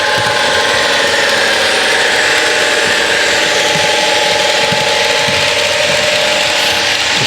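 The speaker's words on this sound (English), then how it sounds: "I'll let the motor run in for a half hour either way." An Accurascale Deltic model locomotive's replacement motor running in, giving a continuous whirring, gear-laden mechanical buzz with a steady high hum, loud and close, with no talk.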